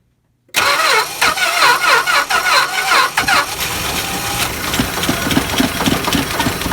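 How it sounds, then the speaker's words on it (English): After a moment of silence, a 1963 Dodge 330 that sat unused for 25 years cranks with rapid uneven chugging, then catches and settles into a loud, rough, steady idle close by. "First crank up, part 2 for the 1963 Dodge 330."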